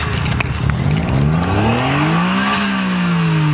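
A BMW E30 325iS engine revs hard nearby, pitch sweeping up and down in a loud continuous roar, with rough crackle at the start and no talking over it.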